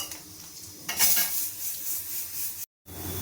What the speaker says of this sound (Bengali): ফোড়নটাকে এবার একটু ভালোভাবে ভেজে নেব